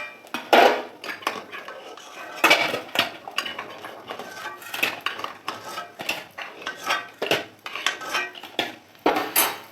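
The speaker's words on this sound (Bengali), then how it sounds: "এবার আমি ডিমগুলোকে এক এক করে নামিয়ে নেব" Boiled eggs lifted one by one out of a pot with a metal utensil, producing a series of uneven clanks, scrapes and knocks against the pot, close and sharp, separated by brief pauses, with no speech.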